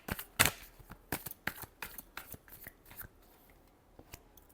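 A deck of tarot cards is shuffled close by, with a quick run of soft riffling slaps and flicks that starts strong and then thins into scattered light taps.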